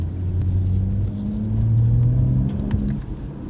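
A BMW M4 Competition on winding California roads, its engine giving a deep, rumbling drone from inside the cabin that rises and falls slightly with throttle, loud and steady with no talking.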